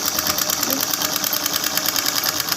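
A sewing machine runs continuously at speed, stitching a fall onto the edge of a saree, its close, loud, rapid mechanical rattle steady throughout.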